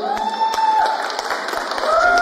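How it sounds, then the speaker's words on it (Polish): A crowd applauds a performing group called Millennium, steady dense clapping throughout the short stretch with a light murmur of voices underneath. "Zasłużone brawa."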